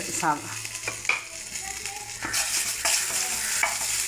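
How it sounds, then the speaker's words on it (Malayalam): Steady sizzling and crackle of onions and green chillies frying in a hot pan, with a few clinks and stirring scrapes over a constant hiss. "ചൂടായിപ്പോയി ചട്ടി. സവാള ഇട്ട് കൊടുക്കാം."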